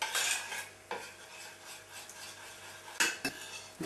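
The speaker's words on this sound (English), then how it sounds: "Just stir this up so that the chocolate and the liqueur become a consistent sauce-like consistency." Chocolate and liqueur being stirred into a hot sauce for mousse royale, a steady close scraping and clinking of a utensil against the pan with a couple of sharper knocks, no voices.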